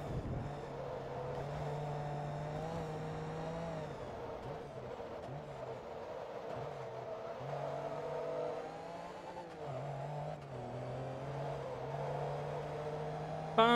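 Race car engine in the video game Forza Motorsport 2, a steady droning engine tone held at high revs with slight pitch shifts, continuous and close throughout.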